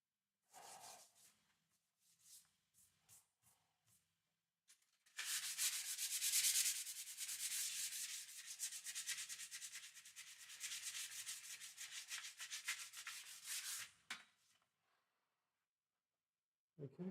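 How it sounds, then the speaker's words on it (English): Wood being scraped on a DIY Telecaster guitar build: a few scattered light scratches, then about nine seconds of continuous close, hissing rasping strokes that stop abruptly, with no talk. "I'm going to scrape some more."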